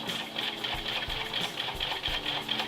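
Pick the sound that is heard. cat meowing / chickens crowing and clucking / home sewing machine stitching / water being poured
home sewing machine stitching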